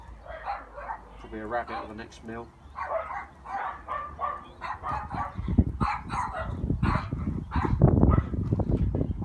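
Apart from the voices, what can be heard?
dog barking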